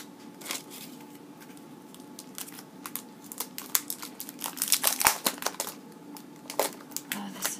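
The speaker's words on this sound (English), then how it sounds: "This is really beautiful paper." Decorative wrapping paper crinkling close up as a gift package is unwrapped, irregular crackling bursts growing denser and louder toward the middle, over a faint steady background hum.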